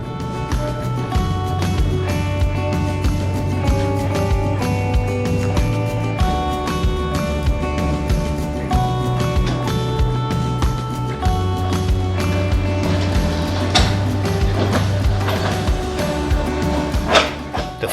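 A steady electric hum with low droning tones and scattered metallic clicks and knocks as a museum trolley car rolls along its rails at the Fox River Trolley Museum.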